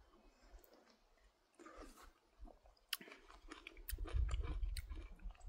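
Someone chews an overripe Mystery tomato, a thick-skinned exotic variety, with soft wet squishing and a few sharper crunchy bites that grow louder toward the end, close to the mouth and with no talking.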